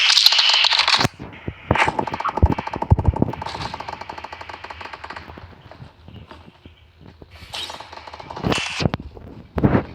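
Gunfire rattles through a PUBG Mobile match: loud automatic bursts and single shots in uneven clusters, with quieter stretches of footsteps and ambient game noise between the volleys.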